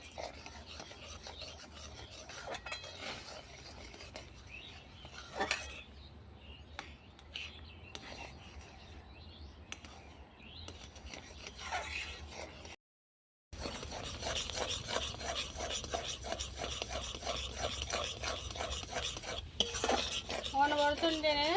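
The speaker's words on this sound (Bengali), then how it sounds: "50 গ্রাম কর্নফ্লাওয়ার ভালো করে মিক্স করে নেব" Cornflour pudding mixture being stirred in a pot over a clay stove, a spoon scraping and rasping against the pot in repeated strokes, close and fairly quiet, with a brief dropout partway through.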